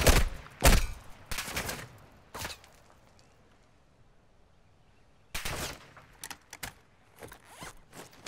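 Sharp bursts of gunfire in the video game Call of Duty DMZ, loud and close, come in two clusters separated by a quieter gap.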